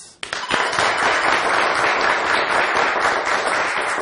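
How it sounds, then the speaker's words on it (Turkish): A studio audience on a Turkish TV word quiz bursts into dense, sustained applause right after a sharp onset, many hands clapping loudly and evenly with no voices over it. "Yoruldunuz mu alkışlamaktan?"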